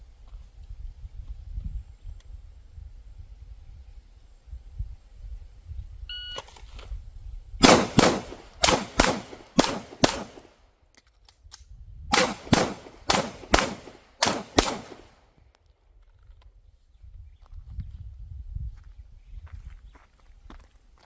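Pistol shots at a shooting range drill come in two quick strings of about five or six sharp, loud cracks each, separated by a brief pause, with a timer beep before them and quiet outdoor background around.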